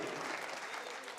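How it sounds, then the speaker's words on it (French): Crowd applause at a women's national pétanque final, a brief, steady wash of clapping from a large audience, faint and distant, with a commentator talking over it. "sous les acclamations du public venu nombreux"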